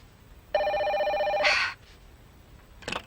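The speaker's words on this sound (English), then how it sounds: "Oh, come on, let it ring." A telephone rings in a soap-opera scene, one long electronic trill that starts after half a second and holds steady for about a second, ending in a brighter burst, then a short second chirp follows near the end.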